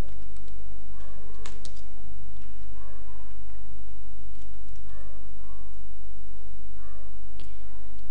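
Keystrokes on a computer keyboard, a few scattered clicks and short bursts of typing, faint and close, with no talk.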